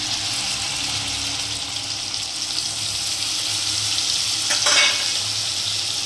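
Spice paste of ground coriander, cumin and onion sizzles in a pan for a potato and eggplant curry, a steady close frying hiss with a short louder splash of stirring near the end; no speech.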